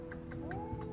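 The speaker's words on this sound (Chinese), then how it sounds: "有没有听到猫在叫？这种叫法很不正常，肯定是受伤了或者是生病了。" A cat in a neighbouring apartment meows in distress, a single faint, drawn-out rising-then-falling cry heard from a distance in a quiet room.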